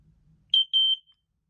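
A home smoke alarm's ionization chamber test button sets off two loud, shrill high-pitched beeps, a short one then a longer one, preceded by a faint low rumble of handling.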